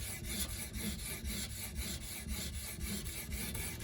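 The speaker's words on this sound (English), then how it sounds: "gonna be using the 300 grit diamond matrix stone." Knife blade, a Benchmade Nim Cub, sharpened on an Edge Pro system with a 300 grit diamond matrix stone, giving rhythmic gritty rasping strokes, about three per second, close and fairly quiet with no talk.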